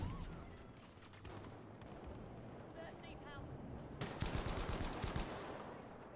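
Gunfire from a gun with heavy recoil in the shooter game Battlefield V, a dense rattle of shots and booming fire that swells louder toward the end, under a voice talking.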